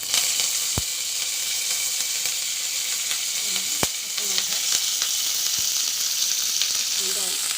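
Mustard seeds, dried red chili, cumin and curry leaves fry in hot oil for a Tamil pottukadalai kuzhambu, giving a steady close sizzle with a few sharp pops and spits and no talk.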